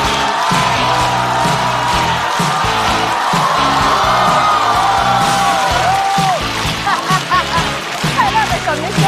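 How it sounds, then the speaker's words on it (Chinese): A studio audience at a Chinese stand-up comedy show applauds and cheers to welcome comedian Xu Zhisheng. Dense clapping with whoops and shouts runs throughout, and a voice is heard over the crowd. "掌声欢迎"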